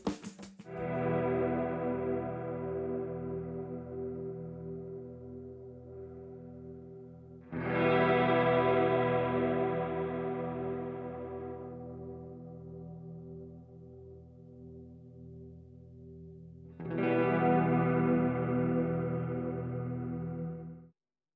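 Electric guitar chords played through an M-VAVE Mini Universe effects pedal, three strummed chords ringing out with chorus and distortion, each left to decay slowly.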